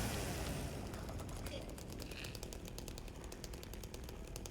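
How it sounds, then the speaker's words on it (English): A chainsaw revs in the Silent Hill 2 (2024) remake, a continuous dense buzzing roar with rapid rhythmic pulsing, loud and steady throughout under game ambience. "they heard the chainsaw, and now they're scared"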